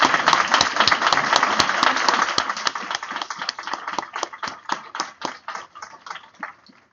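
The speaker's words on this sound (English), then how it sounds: "Let's give Dr. Sampson a really round of applause for this." At a college online book club event, an audience applauds Dr. Sampson Davis, with dense clapping at first that thins into scattered individual claps and fades out.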